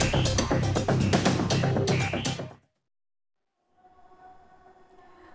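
A Whoosh high-speed train rushes past loudly and close for a couple of seconds, then cuts off abruptly, followed by a quieter rumbling hum of the train running.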